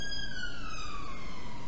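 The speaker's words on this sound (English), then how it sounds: "There goes a police car to something." A police car siren wails past, its pitch gliding steadily downward as it goes by, loud and continuous with no speech.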